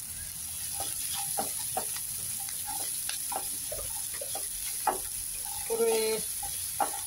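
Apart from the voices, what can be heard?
onions sautéing and being stirred in pan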